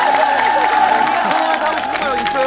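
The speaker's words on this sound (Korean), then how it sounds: "우리 다 같이 박수" Studio audience applause fills a Korean TV variety show stage during a bodybuilding segment, a steady, dense wash of clapping and crowd noise with a voice or music running underneath throughout.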